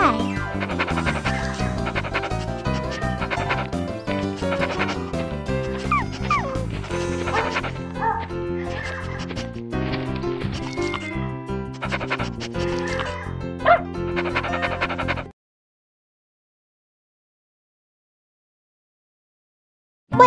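A puppy barks and yips repeatedly in the Barbie Pet Rescue video game, with small whimpers between the yips over cheerful background music, and then stops into silence near the end.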